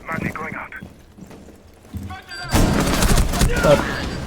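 Super Shorty shotgun blast in Rainbow Six Siege, a loud close boom with a rumbling tail that follows quieter game noise and someone talking.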